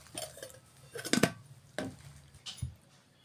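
Mustard oil being worked into paratha flour in a bowl, giving a few soft scraping, clinking strokes against the bowl with short pauses between them, close and fairly quiet.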